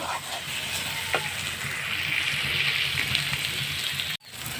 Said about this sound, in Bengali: তো এখানে আমি জল দিয়ে দিচ্ছি, আর জলটা যেন গরম জল হয়